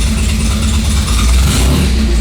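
A 1955 Austin Healey engine with an out-of-tune H4 SU carburettor revs hard under heavy throttle, the carburettor spitting, a loud close rumble that surges and holds steady across the whole stretch.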